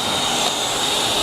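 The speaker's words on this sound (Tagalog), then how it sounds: "Ayan yung pagsip-sip." 220-volt car vacuum cleaner pulling suction, a steady loud high-pitched whooshing hum held close without a break.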